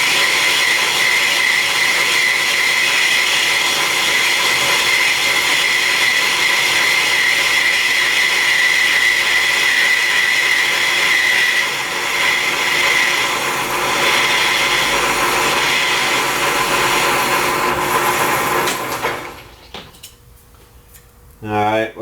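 Cutter machining teeth on a gear rack while the feed is cranked in by hand: a loud, steady grinding hum that runs on, then cuts off near the end to quiet with faint clicks.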